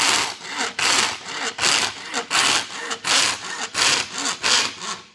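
A hand saw slowly cuts a pewter casting mould clamped in a vise, producing close, rasping back-and-forth strokes in a steady rhythm of roughly a dozen pulls.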